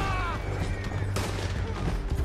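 Gunfire in Red Dead Redemption 2 during a fight, a continuous volley of shots and cracks blending into loud game noise with a low rumble underneath.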